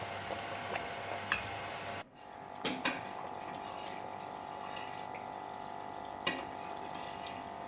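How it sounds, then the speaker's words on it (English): Homemade coconut oil bubbles and sizzles steadily in a pot, a continuous hissing crackle with a few sharper pops scattered through. "The coconut oil is boiling now."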